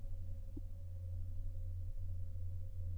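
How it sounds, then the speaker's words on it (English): A computer fan hums steadily at low level, a constant droning tone with faint harmonics and no variation, heard alone in a quiet room. "I think I can still hear your fan going."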